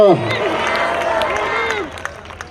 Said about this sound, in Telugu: యేసయ్యకి చప్పట్లతో ఘనంగా స్తోత్రాలు చెప్పండి